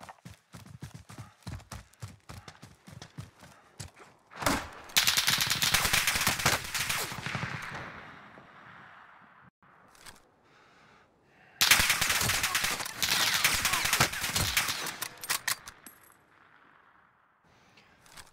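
Automatic gunfire from Call of Duty Warzone rips out in two long, loud sustained bursts separated by a quieter lull, with scattered sharp clicks and footsteps-like taps leading in.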